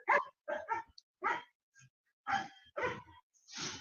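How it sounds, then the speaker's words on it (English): Several dogs bark loudly and repeatedly in irregular bursts near a roadside stop, the yaps and woofs separated by short pauses with no talk over them. "They are noisy dogs, isn't they?"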